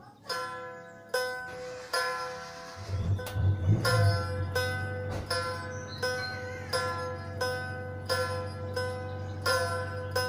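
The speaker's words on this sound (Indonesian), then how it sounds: "sekali petik itu dua-dua senar, baru sekali sendiri di bawah, itulah gong kecil yang namanya dalam karolah penganak" Plucked strings of a Karo kulcapi lute ring in a steady rhythmic pattern, paired strums alternating with single low notes, with a low droning bass underneath, close and clear with no talking.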